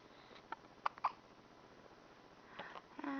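A child hiccups indoors with a TV on: a few short, sharp hiccups close by, three spaced near the start and another pair toward the end over a low room hum.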